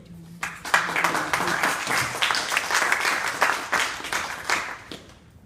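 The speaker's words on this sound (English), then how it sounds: "Let's just stop and give a round of applause to our ladies present today" An audience at an open house for women veterans breaks into a sustained round of clapping, dense and moderately close, tapering off near the end.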